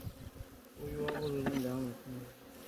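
Honeybees buzz close by in an open hive during queen introduction, a steady drone that swells and fades over a couple of seconds, with a few louder, higher-pitched whines rising above it.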